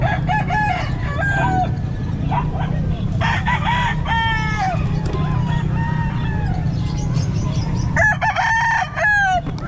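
Several roosters crow repeatedly and overlap at a busy outdoor pet market in Calumpit, loud and close, with clucking over a constant crowd murmur and occasional voices.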